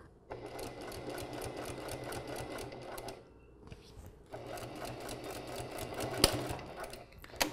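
A sewing machine stitches a fabric seam on a shirt, a steady close rapid whir with a short pause partway through before it runs on again.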